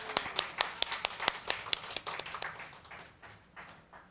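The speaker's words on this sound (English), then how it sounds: "let's give applause for Pyna" A small audience claps at an event presenting Aiyu brought from Taiwan, with sparse, distinct hand claps that start fairly lively and thin out over a few seconds.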